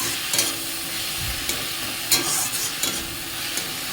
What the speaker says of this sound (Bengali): এবার ভাতটাকে ভেজে নেবো